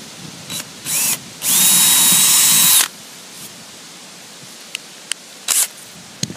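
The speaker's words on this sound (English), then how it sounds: "So now I'm going to drill a pilot hole. This is about an 1/8 inch bit" A power drill with a 1/8 inch bit bores a pilot hole into a travel trailer's RV roof: short revving bursts, then one loud sustained whir of about a second and a half, followed by quiet taps.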